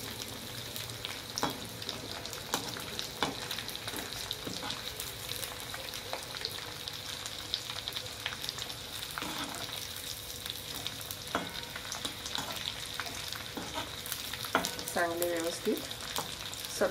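Dried Bombay duck (bombil) fries in a pan with a steady crackling sizzle and scattered stirring clicks throughout. A voice speaks briefly over the frying.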